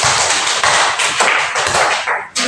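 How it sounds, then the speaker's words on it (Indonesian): Applause for a student group in a biology microteaching classroom practice session, a dense crackle of many hands clapping close and loud for about two seconds before cutting off. "Berikan aplaus."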